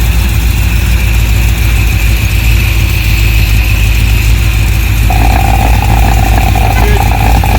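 Big Block Chevy motorhome engine running steadily and loudly up close, a constant rumbling drone that holds throughout with a faint tonal whine entering partway through.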